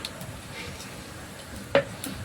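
Cumin, urad dal, dried red chilies and curry leaves temper in hot oil in a pan for a puri curry, a soft continuous sizzle with a sharp clink of a utensil near the end.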